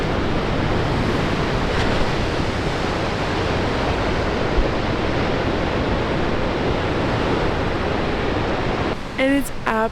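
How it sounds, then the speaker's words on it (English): Surf on Stradbroke Island, Australia, rolls in as a loud, continuous roar of breaking waves, blended with wind buffeting the microphone, before a voice begins at the very end. "you can see the waves behind me"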